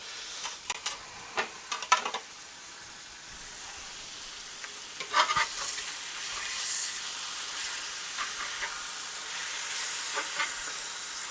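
Yogurt-marinated chicken baking in a hot oven bubbles and sizzles continuously as moisture boils off, a soft hissing bed dotted with sharper pops and crackles, fairly close and moderately quiet.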